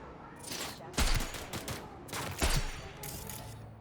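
Gunfire in the Cyberpunk 2077 video game on very hard difficulty: repeated loud bursts of shots at close range, with two heavier volleys standing out among steadier firing.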